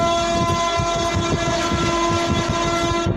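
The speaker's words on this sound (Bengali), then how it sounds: "স্পিড দেখো, স্পিড ট্রেনের স্পিড দেখো" A passenger train running at high speed on the Kolkata to Digha line, a steady loud roar of wheels and carriage rumble with dense rhythmic rail clatter, continuous and close throughout.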